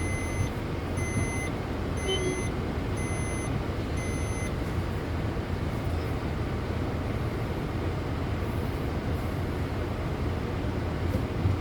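A loud, rumbling low roar of a train passing a level crossing fills the scene, with a repeating electronic warning beep at the start.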